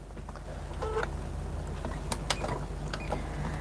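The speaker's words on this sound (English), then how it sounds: "we're going to head over to the sewing machine again, and we're going to just stitch on that line all the way around" Sewing machine stitching around a marked line on fabric for a clip tray, a low mechanical whir with faint rhythmic ticking and a few sharp clicks, fairly quiet and with no speech.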